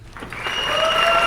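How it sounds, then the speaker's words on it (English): A stock applause sound effect from a licensed music library: a dense wash of many hands clapping that swells in over the first half-second and holds steady and loud. "how about we get you a real clap?"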